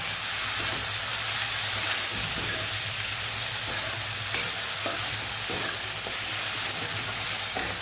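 Chopped fenugreek greens sauté in a pan with a constant, close hiss and sizzle, punctuated by soft rhythmic scraping of a spoon stirring, no talking.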